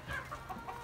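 A Buff Brahma chicken gives a few quick, soft clucks in a brief, faint burst, close by and alone.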